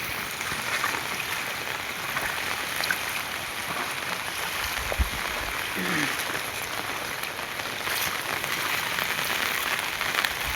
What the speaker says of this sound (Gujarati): વાડી વિસ્તારમાં ફૂલ વરસાદ છે.